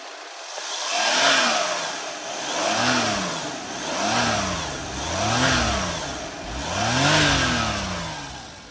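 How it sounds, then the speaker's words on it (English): A 1998 Suzuki Alto Works RS/Z turbo engine revved five times in a steady rhythm, each rev rising and falling smoothly, heard up close and loud with no voices over it. "Get the turbo to go off."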